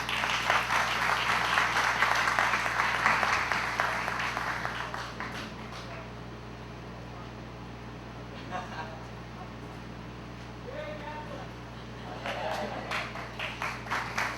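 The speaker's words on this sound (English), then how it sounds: "Round of applause, please." Applause from an audience at a groundbreaking ceremony for a construction foundation pour, fairly loud and steady for about five seconds, then fading into quieter room noise with scattered voices and a few later bursts of clapping.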